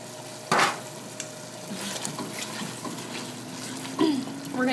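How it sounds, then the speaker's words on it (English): Broken-up tomatoes with their juice and peppers tipped into a hot fryer for oxtail stew, a soft sizzle with a couple of louder splashes and stirring clinks, fairly faint. "We're going to add that to our fryer."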